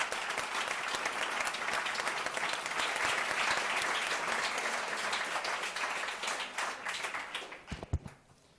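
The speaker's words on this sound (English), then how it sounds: "Please, a round of applause to the panelists." An audience at a climate finance panel session gives a long round of dense, steady applause for the panelists, which tapers off into a few scattered claps at the end.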